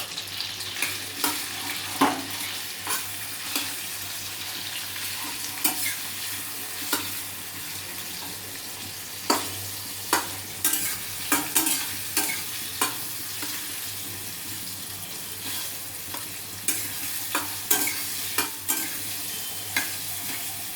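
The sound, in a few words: frying stuffed kakrol (spiny gourd) pieces in a pan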